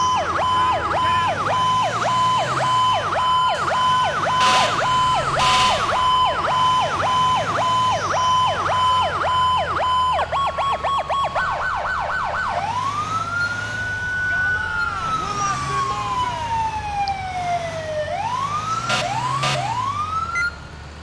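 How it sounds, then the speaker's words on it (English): A custom emergency siren from the police game LCPD:FR cycles loudly, with fast yelping sweeps, a brief rapid warble, then slow rising and falling wails over a low engine hum, no voices. "Trying out a new siren I kind of put together, threw together."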